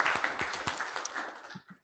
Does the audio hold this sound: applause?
yes